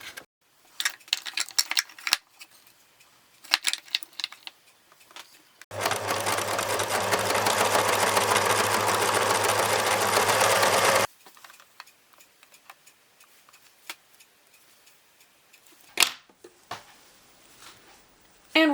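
A sewing machine stitches a torn seam closed on a towel, a loud, even motor whir running steadily for about five seconds, framed by soft handling clicks and fabric rustle before and after.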